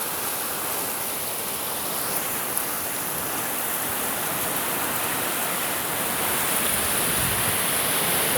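Steady rain falls outdoors in Earp, California, a dense, even hiss of drops that stays constant and close throughout with no voices.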